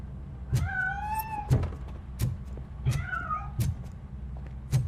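A cat in the video game RoboCop Rogue City meows twice, drawn-out calls over a low rhythmic background hum, fairly close and with no one speaking.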